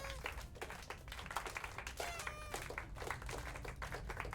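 A tower defense video game plays a faint, odd clapping effect that repeats in quick, uneven bursts alongside soft game tones, with no voices over it.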